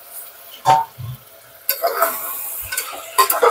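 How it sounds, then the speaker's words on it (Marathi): A spoon stirs soybeans, pumpkin, potato, beans and brinjal in a pressure cooker, giving a few scraping knocks and a soft sizzling rustle, close and clear with no talking. "आता हे मिक्स करून घ्यायचं चांगलं आणि ह्याला शिजवून घ्यायचं"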